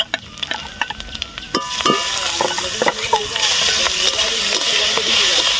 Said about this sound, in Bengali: এবার দিয়ে দেবো চিংড়ি মাছগুলো